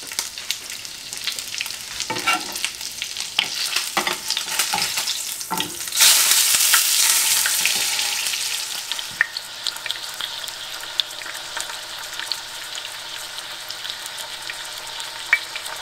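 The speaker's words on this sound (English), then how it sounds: "we want to turn it on the other side and cook it for another 30 to 50 seconds" Salmon sears skin side down in a hot pan, a steady crackling sizzle running throughout, with a louder burst of spitting hiss partway through and scattered pops, close and alone with no talking.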